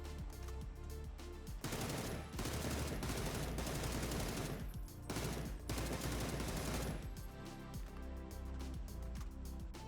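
Sustained automatic gunfire from a weapon fitted with a barrel without attachments in the PUBG video game, loud and close, in two long sprays separated by short pauses over steady background noise.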